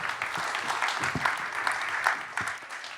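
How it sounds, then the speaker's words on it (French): An audience at an award ceremony applauds, a dense, steady wash of clapping from many hands that carries on for a few seconds before starting to thin. "Félicitations, on peut l'applaudir."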